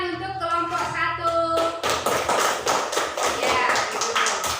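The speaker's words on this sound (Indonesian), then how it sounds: "Tepuk tangan untuk kelompok 1" Classroom of students clapping for a group after a presentation, a dense, loud burst of hand claps that starts abruptly partway through, following a few seconds of other sound.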